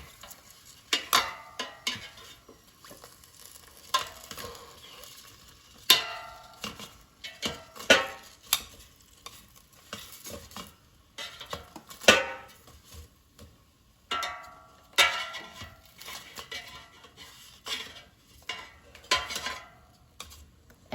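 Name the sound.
flipping bratwurst sausages in an air fryer basket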